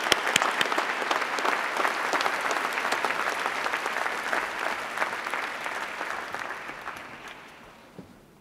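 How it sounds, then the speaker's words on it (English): A large crowd at a university graduation ceremony applauds the graduating class continuously, loud and dense, gradually fading out toward the end. "Please join me in a round of applause to the graduating class."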